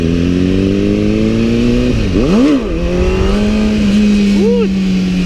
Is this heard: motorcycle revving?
yes